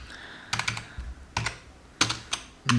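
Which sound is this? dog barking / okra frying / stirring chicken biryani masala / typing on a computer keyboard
typing on a computer keyboard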